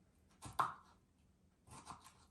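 A knife chopping tomatoes and vegetables on a board in a home kitchen, a few quiet, separate cuts with gaps between them.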